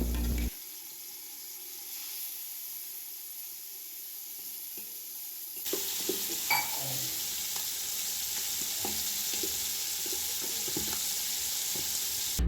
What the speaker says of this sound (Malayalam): മാരിനേറ്റ് ചെയ്ത് വെച്ചിട്ടുള്ള ചിക്കൻ ജസ്റ്റ് ഒന്ന് ഷാലോ ഫ്രൈ ചെയ്തെടുക്കുകയാണ്.